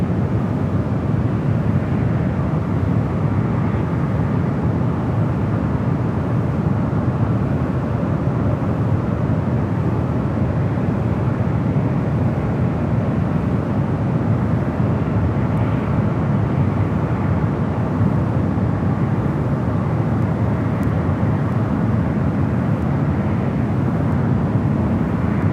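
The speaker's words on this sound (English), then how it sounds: "United Airlines Flight 589 coming in from Frankfurt, a 787-9 Dreamliner." A United Airlines Boeing 787-9 Dreamliner, arriving from Frankfurt onto runway 28 left at San Francisco, gives a steady, moderately loud jet roar that holds evenly throughout, with no talk.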